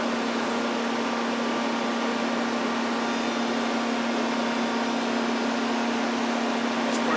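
Head of a Sunnen SV-3 vertical two-stage honing machine lowering in jog mode, giving off a steady, unbroken motor hum and drone at an even level throughout.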